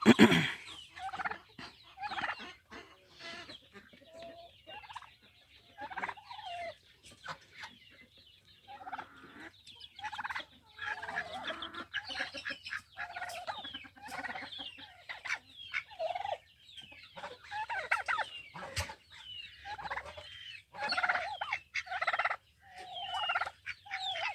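A turkey gobbles again and again in loud, close bursts with short gaps, keeping up a steady run of calls for about twenty-four seconds with no voices over it.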